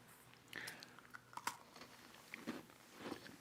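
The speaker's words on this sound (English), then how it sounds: "And now they get to hear us crunch." People bite into cookies with a few quiet, scattered crunches and chewing sounds, close to the microphone and faint overall, with no talking.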